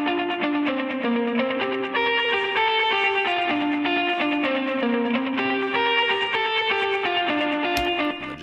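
Electric guitar chorus riff from a song, played with distortion and chorus effects, a loud repeating melodic figure that runs continuously without pause and with no talking.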